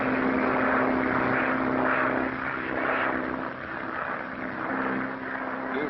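A propeller aircraft in flight gives a steady, droning engine roar with a constant hum that holds evenly from start to finish.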